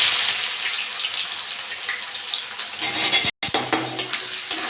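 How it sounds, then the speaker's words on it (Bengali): Onions fry in hot oil for a chicken and potato curry, giving a continuous close sizzle with scraping stirring strokes. The sizzle cuts out for a moment near the end and then resumes. "পেঁয়াজটা ভালো করে ভেজে নিয়েছি।"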